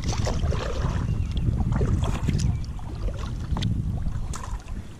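Steady wind buffeting an outdoor microphone while kayak fishing on open water, a continuous low rumble with faint splashes and small knocks on top.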